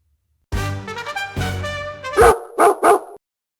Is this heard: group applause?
no